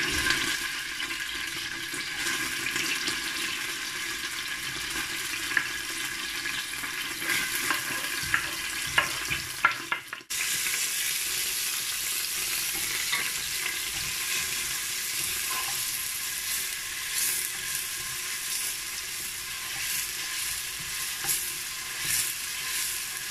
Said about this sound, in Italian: mettiamo la cipolla a rosolare col peperoncino